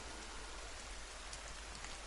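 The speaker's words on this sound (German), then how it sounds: "Ja, aber es regnet." Steady rain falls in The Forest video game, a continuous hiss of drops on surfaces with no breaks across the whole moment.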